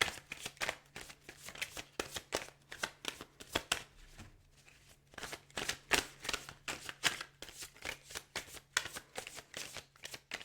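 Tarot cards shuffled by hand to pull a clarifier: a close, rapid run of papery riffles and slaps in quick rhythmic bursts, with a brief pause partway through, no speech.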